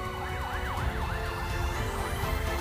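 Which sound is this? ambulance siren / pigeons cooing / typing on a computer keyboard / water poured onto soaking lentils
ambulance siren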